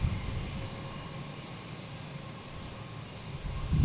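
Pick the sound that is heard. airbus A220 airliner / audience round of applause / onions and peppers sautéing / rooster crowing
airbus A220 airliner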